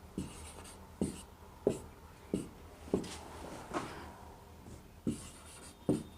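Chalk or marker strokes tap and scrape across a board as a definition is written, a steady series of short, distinct scratches about once per second, close and fairly quiet with no talking.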